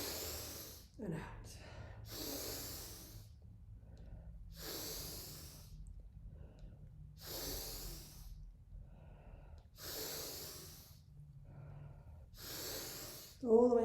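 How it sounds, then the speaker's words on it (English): Deep, forceful breaths drawn in and pushed out in a steady rhythm during Tummo breathwork, six or so long airy cycles close to the mic, with a sharp sniff near the start. "Okay, starting again, so breathing in"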